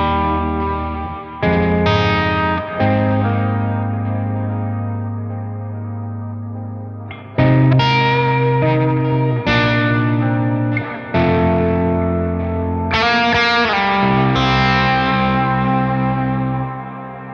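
An electric guitar plays through a Schmidt Array SA750XDM pedalboard on a heavily processed patch with distortion, chorus, echo and long reverb decay, producing loud sustained chords that wash together with bright swells and long ringing tails.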